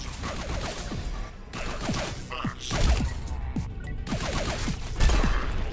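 Video game gunfire in Echo Point Nova, a rapid spray of repeated shots with sharp transients that come in bursts over a dense, busy game soundscape, with no voices.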